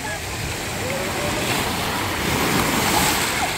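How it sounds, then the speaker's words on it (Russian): Sea waves wash onto a busy summer beach at Lazarevskoye, Sochi, with a steady, loud surf rush and wind buffeting the microphone throughout. "Ух, вот и волна пошла."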